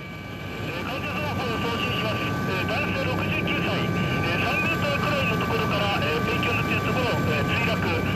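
A medical helicopter lifts off with a loud, continuous rotor and turbine roar that holds steady throughout, and a voice may run underneath it.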